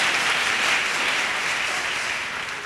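A church congregation claps for Jesus in dense, continuous applause at a steady loud level, easing slightly toward the end.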